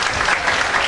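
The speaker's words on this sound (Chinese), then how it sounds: "所以就让各位跟来宾我们热烈的掌声，给他们最大的祝福" Wedding guests at a ceremony break into steady, dense applause, a continuous wash of many hands clapping at close range with no voices standing out.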